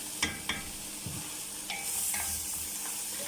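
Onions and spices stir-frying in a pot for a red tashreeb with meat, a steady soft sizzle with a few scraping stirs of a spoon near the start.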